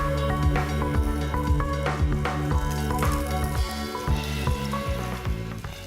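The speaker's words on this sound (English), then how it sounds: "what I'm going to do is pop the meat in here like that and break it up as we go along and get it cooking" Meat sizzles with spices in a Swiss Diamond pan, a loud and steady frying hiss close by, with occasional stirring scrapes and no voices.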